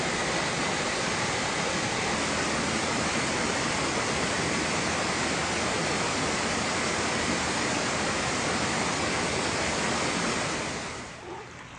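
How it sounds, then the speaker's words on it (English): Flash-flood water rushes down a canyon as a loud, steady, roaring wash of noise that holds for about eleven seconds before dropping away at the end. "This is the start of the flash flood."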